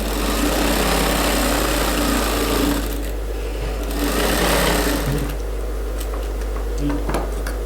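A sewing machine stitches a dart on a suit with a continuous close whirring hum, easing slightly in intensity partway through and then running on steadily.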